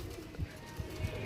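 A pigeon coos in a few soft, low pulses against a quiet indoor background, fairly close but faint.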